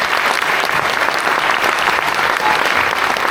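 An audience at a Slovak primary school and kindergarten Christmas program applauds. The clapping is dense, close and sustained, holding an even level throughout.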